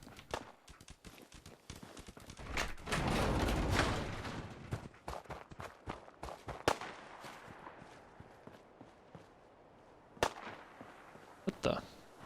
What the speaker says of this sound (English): Did I just hear a gunshot?